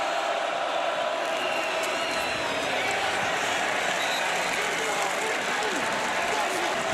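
A sellout football crowd at Autzen Stadium cheers and applauds steadily throughout, a dense, continuous roar of voices and clapping with occasional whoops rising above it.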